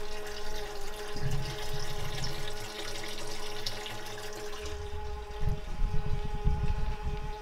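Water pouring steadily into a home brewing system in a garage, a continuous close rushing flow that grows rougher and more turbulent toward the end.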